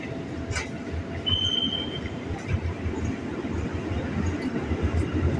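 A commuter train at Bekasi station in Indonesia rumbles along with a steady low roar of wheels on rails, a brief high metallic squeal rising over it, close and loud, with no talking.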